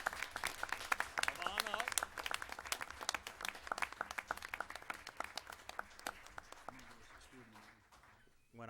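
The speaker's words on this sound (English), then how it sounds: "give him a round of applause." Applause for Matthew Laponio at a Board of Education meeting, a dense patter of claps from a room full of people that thins out toward the end, with a voice speaking over it near the start.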